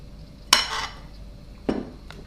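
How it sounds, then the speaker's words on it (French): A tablespoon drops chocolate mousse into a chocolate-chestnut tiramisu, making two soft, wet plops with light spoon scrapes against the dish, close and quiet with no talk. "Ensuite, on va mettre de la mousse au chocolat. Une belle cuillère à soupe."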